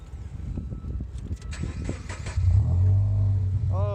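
A 2015 Scion FR-S fitted with Skunk2 Alpha unequal-length headers and a Spec-D catback exhaust cranks and fires up, starter churning briefly before the engine catches into a loud, close, steady low drone, with faint voices early on.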